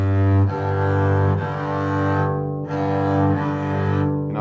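Two double bass strings bowed or sounded together in fifths for tuning, a sustained deep droning interval held for several seconds with slight swells, alone and up close.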